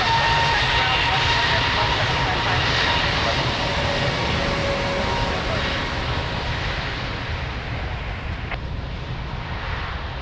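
Aircraft engine roar as a plane takes off from runway 02 at Lisbon Airport, a loud broad rumble that slowly fades, with faint talk underneath.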